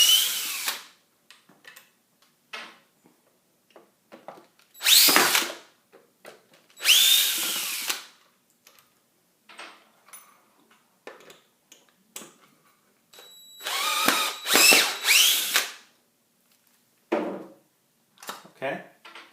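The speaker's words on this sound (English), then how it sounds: "I'm going to unscrew these 3 screws." A power screwdriver backs three screws out of a jimmy proof lock in short whirring bursts separated by quiet pauses, with small clicks and handling noises in between.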